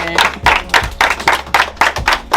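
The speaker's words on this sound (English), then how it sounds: "Let's give Sister Joni a round of applause." An audience at a home-unveiling celebration gives a round of applause. The loud, close clapping comes in rhythmic bursts about twice a second.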